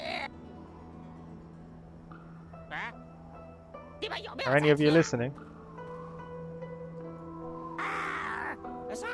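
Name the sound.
bird calls in Xuan-Yuan Sword VII video game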